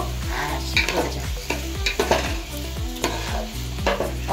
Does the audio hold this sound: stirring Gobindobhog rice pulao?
yes